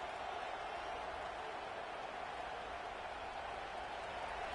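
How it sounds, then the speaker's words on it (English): Crowd noise in a football stadium during a Big 12 college game, a steady, continuous roar that holds evenly throughout. "This crowd bringing the energy and noise early."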